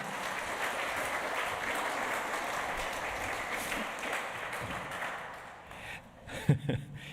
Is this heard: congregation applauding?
yes